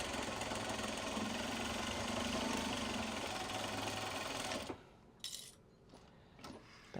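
A sewing machine stitches a Japanese fabric bag in a steady, close mechanical whir for several seconds, then stops abruptly, leaving faint handling clicks and rustles in a quiet room.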